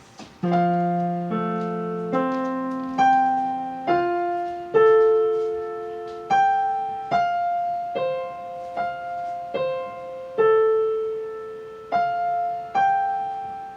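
Solo piano plays one measure, with left-hand notes under a right-hand melody, in a steady sequence of clear, close struck notes that ring and decay, with no voices.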